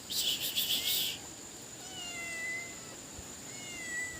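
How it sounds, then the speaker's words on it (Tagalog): A stray cat meows faintly in the distance a few times, over a steady bed of buzzing insects and a short burst of high chirping at the start. "Ayan, oh, may pusang ligaw, oh."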